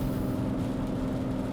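A car engine runs at steady idle right after a forced diesel particulate filter regeneration, a low constant drone with a faint hum and no talk over it.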